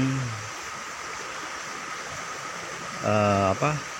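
A rocky river stream flows steadily over stones near Purwokerto, a constant broadband rush with harmonic voice-like tones briefly at the start and near the end.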